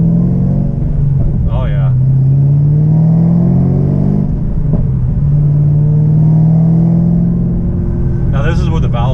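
A ZL1 V8 with Cook's 3-inch headers, an X-pipe and exhaust valves held open rumbles loudly at warm idle, then rises in two revs before settling back. Someone speaks briefly at the end.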